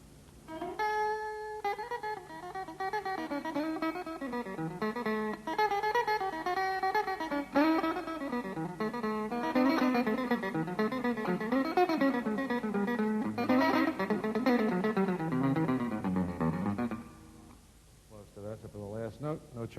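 Old fiddle tune played on electric guitar, a continuous run of quick, bright single-note melody lines and bends at moderate volume, ending with a few plucked notes.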